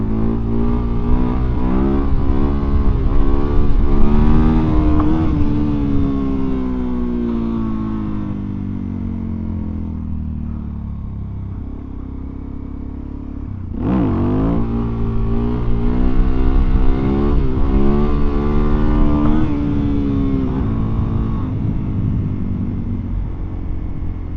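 A Suzuki DRZ400SM motorcycle builds speed, its engine rising in pitch through the gears, dropping briefly at a shift, then climbing again, loud and close with steady rumble and wind.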